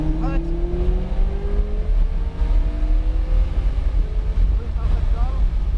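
A McLaren accelerating hard down a track straight, engine note rising steadily under wind buffeting, while an instructor's voice talks over it.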